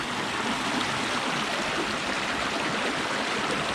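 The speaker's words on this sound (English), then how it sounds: "The water's so high and rushing further up." High, fast-rushing creek water flowing nearby, a dense, even roar of churning stream noise that stays constant from start to finish with no talking.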